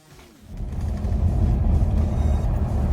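A 1994 Toyota pulls away for a drive, its low engine rumble rising after a brief quiet start and then holding steady and close, with no one talking.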